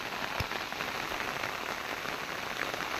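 Heavy monsoon rain pours down at the old Mandangad hill fort in coastal Maharashtra. It is a dense, steady hiss of drops hitting surfaces, with occasional louder close drips, and nothing else can be heard.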